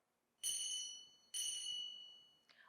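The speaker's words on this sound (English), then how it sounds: "When your time is up, you will hear the bell ring twice." A timekeeper's bell rings twice, crisp, about a second apart, each ring sustaining and fading, in an otherwise quiet setting.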